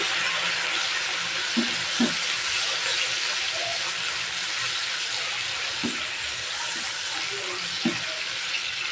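Ginger garlic paste fries with salt in a pan for a chicken egg pasta noodle dish. A steady, full sizzle runs throughout, broken by a few faint stirring knocks.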